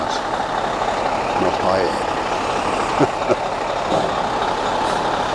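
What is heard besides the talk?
truck carrying a Fassi crane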